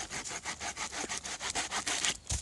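A hand saw cuts through wood during a lakeside bivouac, with steady back-and-forth strokes in a quick, even rhythm, rasping and close, ending with a thud.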